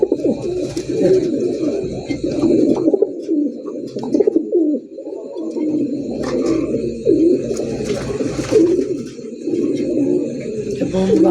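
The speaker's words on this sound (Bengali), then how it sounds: "দেখেন এটা পায়রাটা, ডাইনের পায়রা, বামের পায়রা।" Pigeons kept for sale, including large-crested birds, coo close and loud in a steady overlapping stream of throaty rolling coos, with scattered higher chirps above them.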